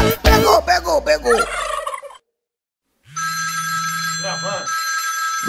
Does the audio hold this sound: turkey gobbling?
yes